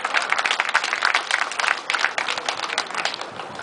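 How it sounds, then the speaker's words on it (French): Audience applause for performing seals at a show, a lively spatter of many hands clapping, fairly close and sustained for several seconds with uneven, crackling texture. "On peut les applaudir."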